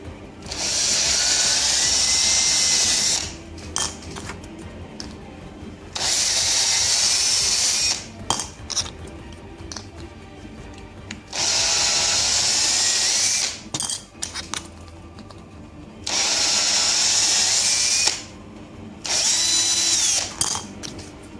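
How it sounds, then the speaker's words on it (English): A power drill with a 7mm bit whirs loudly in four long bursts of a few seconds each, with scraping and rubbing noises in the pauses between, while modifying an RC tank model's road wheels. "Bring in 7mm drill bit."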